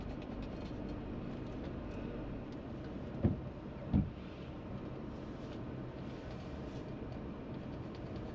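A tram moves through city traffic with a steady low rumble, broken midway by two sharp metallic clanks in quick succession before the drone carries on.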